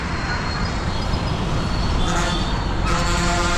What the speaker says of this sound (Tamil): பஸ் இப்போ லெஃப்ட் ஹேண்ட் சைட் கட் பண்ணி தாங்க